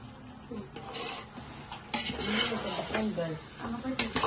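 Onion is sautéed and stirred in a pan, making faint, close scraping and a soft sizzle in short strokes, with a voice speaking quietly at times.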